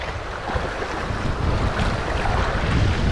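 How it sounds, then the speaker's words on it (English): Strong wind buffets the microphone on a Grays Harbor, Washington beach, a steady loud roar with gusts and no voices. "It's really windy."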